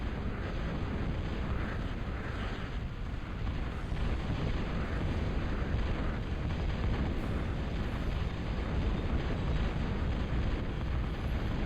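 Missile units attacking in a Total Annihilation real-time strategy match set off a dense, continuous roar of explosions and artillery-like rumble that stays loud and steady throughout, with no pauses.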